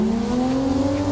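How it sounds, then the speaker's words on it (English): Car engine in the Assetto Corsa racing game held at steady high revs during a clutch-dump Scandinavian flick drift, a loud continuous droning whine that climbs slightly in pitch throughout, with no voices. "So you mix a clutch dump with flicking your wheel"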